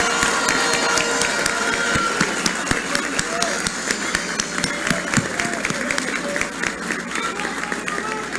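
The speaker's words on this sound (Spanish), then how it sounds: "que le demos un aplauso por la democracia de nuestro país" Crowd applauding at an election victory speech in the Dominican Republic, dense sustained clapping with sharp individual claps, cheers and voices mixed in throughout.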